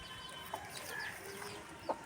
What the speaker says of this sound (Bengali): মুরগির বাচ্চা, মা বাচ্চা ঘুরছে কি সুন্দর।